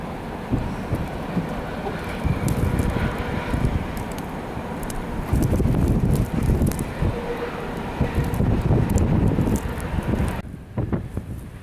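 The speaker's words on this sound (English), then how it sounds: "Okay, we got full-blown blizzard conditions now in Lyman." Blizzard wind during a March snowstorm in Limon, Colorado, a loud continuous roar with surging gusts and microphone buffeting, dropping off abruptly near the end.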